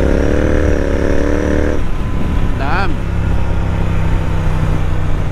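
Suzuki Hayabusa motorcycle fitted with an aftermarket exhaust, its engine running loud and close with a steady heavy drone, a shift in tone partway through and a brief rising whine.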